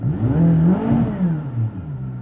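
A voice imitates a car engine revving, a rising and falling vroom held for about two seconds, close and fairly loud.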